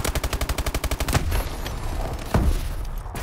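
Rapid automatic fire from the MP11 submachine gun in Call of Duty, a fast burst of about a dozen evenly spaced shots, loud and close, followed by dense in-game battle noise and a second heavy blast.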